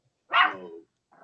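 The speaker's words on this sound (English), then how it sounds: "You barking at that?" A dog lets out a single sharp bark, close and clear, with a faint trailing sound just after.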